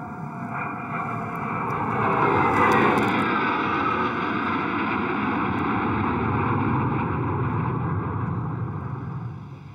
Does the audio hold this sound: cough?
no